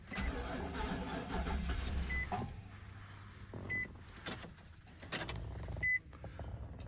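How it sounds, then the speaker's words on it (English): A 2005 Nissan Titan engine cranks and starts after a transponder key is programmed, with a few short electronic beeps and whirring from the cabin, no talking. "Let's try it. We'll start the car."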